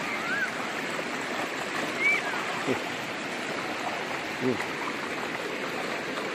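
River water rushing steadily past close by, a constant broadband wash with no breaks, while a few faint chirps and soft knocks sound over it.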